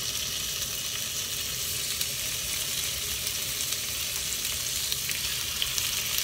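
Lamb sizzling steadily in a hot frying pan, a dense, even crackle of fat and juices that holds at a constant level throughout with no talking.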